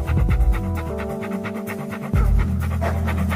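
A dog pants loudly and rhythmically up close in a German crime radio play, with a steady tonal hum running beneath the quick breaths.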